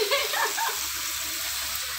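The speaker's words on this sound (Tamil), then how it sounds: "அடுத்து நம்ம இஞ்சி பூண்டு போட்டுக்கலாம். இஞ்சி பூண்டு நல்லா வதங்கட்டும்." Ginger and garlic sizzle steadily in a hot pan during home cooking, a close, continuous hiss of frying with no voices.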